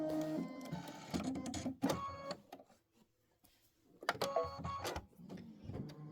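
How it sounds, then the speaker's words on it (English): A home embroidery machine stitches decorative detail into the tail feathers of a quilted snow bird block, giving a steady rapid mechanical chatter that stops briefly midway and then resumes at close range. "So this is going to just do a little bit of decorative stitching in the tail feathers."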